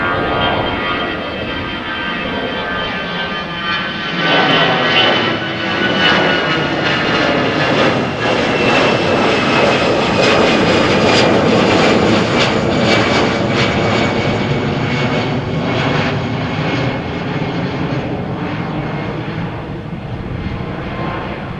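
A Lufthansa airliner departs Amsterdam Schiphol for Frankfurt, its engine roar building over several seconds to a loud, rumbling peak with a thin whine, then slowly easing as it climbs away.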